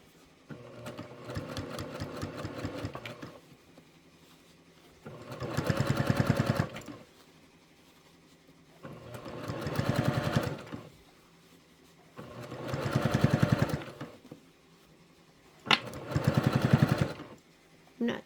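A sewing machine stitches layers of a quilt in four or five separate bursts of steady whirring, each a few seconds long, with quiet pauses between them and no talking.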